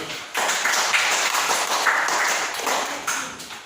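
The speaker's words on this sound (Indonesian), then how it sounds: "Tepuk tangan untuk kelompok 1." A classroom of students applauds a presenting group, a steady burst of many hands clapping together for about three seconds with no talking over it.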